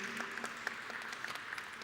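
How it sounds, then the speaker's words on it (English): Fairly faint applause from an audience at a design awards event, continuous light clapping with a few distinct claps standing out. "A round of applause once again, thank you."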